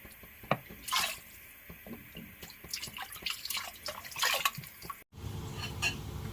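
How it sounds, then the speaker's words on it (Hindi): Water poured into a pot of cooking moong dal for a makhani-style gravy, with close splashing and dripping in an uneven patter, a brief break, then a lower, steadier wash of liquid. No voices. "थोड़ा सा पानी और ऐड कर लूँ ताकि इसमें ये गल भी जाए"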